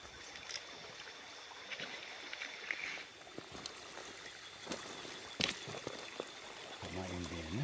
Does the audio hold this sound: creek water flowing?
yes